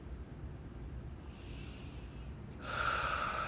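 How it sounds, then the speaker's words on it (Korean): During a prenatal yoga hip-opening exercise, a quiet room hiss gives way to a single sharp, audible breath through the nose near the end. "숨 쉬고."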